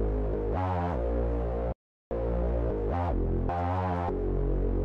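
Hyperpop synth melody loop chopped by a dense re-space effect pattern, bright stuttering chords with rapid gated shifts and one abrupt silent gap, loud and alone without voices.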